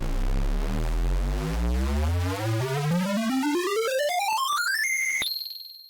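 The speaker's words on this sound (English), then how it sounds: "what if we ran this through Autotune?" A synth riser from the Transit plugin's oscillator run through Autotune climbs in pitch in stepped, quantized jumps, ending on a held high note with a quick blip.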